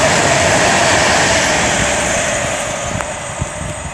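A Class 390 Pendolino electric train rushes past Tamworth on the West Coast Main Line, a loud, close, steady roar of wind and wheels that eases slightly toward the end.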